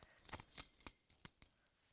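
A few quick, light metallic jangles of keys, close by and soft, fading out within a couple of seconds.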